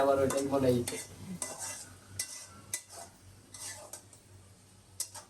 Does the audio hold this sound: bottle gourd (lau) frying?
yes